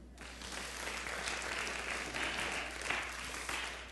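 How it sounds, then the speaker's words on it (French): A church congregation claps during a French-language sermon, a fairly faint, steady patter of many hands with a low hum underneath, continuing evenly for several seconds. "On l'applaudit."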